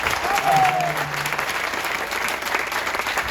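An audience claps at an outdoor town festival proclamation, a dense, sustained burst of applause at close range with a brief tonal whistle-like sound near the start and a faint voice underneath.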